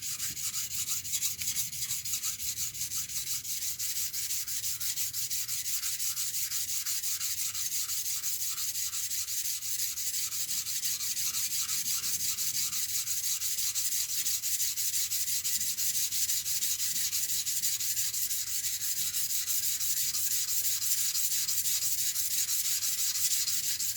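A kitchen knife is ground along its bevel on bench whetstones in steady, continuous abrasive strokes, a close, even scraping rasp that holds at the same loudness throughout with no talking.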